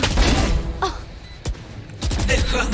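Gunfire in the video game Valorant, sharp shots and bursts mixed with game effects, loud and close, while players talk.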